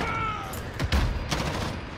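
Gunfire from an M4A1 match in Call of Duty Modern Warfare, a dense fusillade of close shots with sharp bursts around the middle, heard over continuous game noise.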